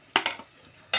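Spoon scraping and clinking in a pan while yogurt is stirred into a Bengali-style egg curry with onion and tomato, a few short close scrapes followed by a quiet gap and another sharp scrape.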